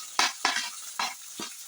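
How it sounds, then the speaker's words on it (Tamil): Chopped shallots sautéed in a pan: a few short stirring scrapes and sizzling bursts, close and fairly quiet, with no talk. "சின்ன வெங்காயம் போட்டு கொஞ்சம் வதக்கிட்டேன்"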